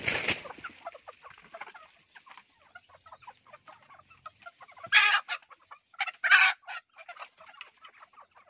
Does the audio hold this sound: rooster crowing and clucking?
yes